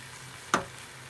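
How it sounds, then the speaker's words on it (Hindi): A short sharp sizzle from sajmain gourd frying with chana dal and spices in a covered pan. One brief hiss rises out of a quiet background and fades almost at once. "खूब बढ़िया से भुजा गेल है सजमनि चना दालि मसाला सब संगे"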